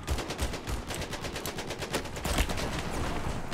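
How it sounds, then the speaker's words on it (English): Rapid, repeated gunshots from a Compact 45 pistol in Battlefield 4, a steady string of close, sharp cracks with a few heavier blasts mixed in and a busy battle noise underneath. "I don't like this compact 45 for long range shots."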